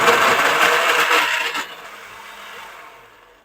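A blender jar whirs loudly as it purees milk and potato into a fine paste, then cuts off partway through, leaving a fading hum as the motor spins down.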